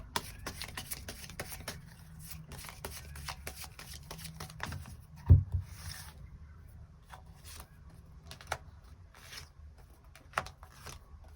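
Tarot cards are shuffled and drawn by hand, giving soft rapid riffling and rubbing with scattered flicks and one sharper slap midway, close and fairly quiet.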